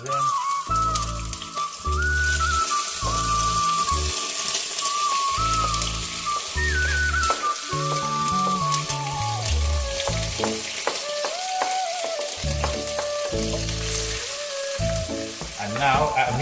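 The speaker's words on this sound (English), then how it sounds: "mustard seeds only give out the flavor when it pops, and it only pops when it gets hot" Mustard seeds pop and crackle in a hot pan for a Jaffna-style mutton curry, a dense continuous sizzle with many sharp pops, heard close and alone under faint background music.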